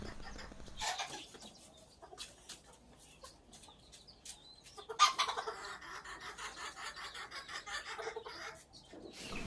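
Chickens cluck and chicks peep in short, scattered calls in a new rooftop cage, near and moderately loud over a quiet background, with a busier burst of clucking midway.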